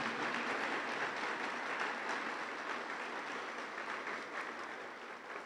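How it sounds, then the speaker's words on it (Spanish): Steady applause from an audience at an award ceremony for the Presea Bernardo Quintana Arrioja, dense continuous clapping that fills the whole stretch and tapers slightly toward the end. "Fuerte el aplauso para todos ellos."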